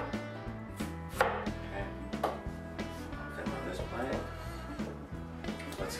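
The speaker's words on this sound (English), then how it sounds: "First of all, we're gonna cut our onions." Knife chopping onions on a cutting board, a rapid steady series of close, crisp thuds running throughout, over a constant backdrop of loud music.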